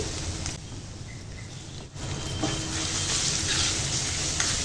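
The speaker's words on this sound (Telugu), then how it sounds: "మామిడికాయ తురుము నూనెలో మగ్గాలండి" Grated raw mango fries in hot oil, giving a continuous close crackling sizzle that swells slightly partway through, with no voices.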